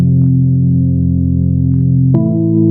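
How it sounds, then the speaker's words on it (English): Layered organ-style synth pad chord from the Analog Lab software instrument, a sustained rich chord holding steadily, then shifting to a new voicing near the end, loud and alone with no talk. "again, analog lab, this time more of a sort of organ sound or a pad sound."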